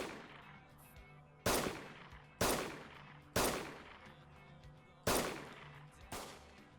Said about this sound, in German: Das ist ein Schuss gewesen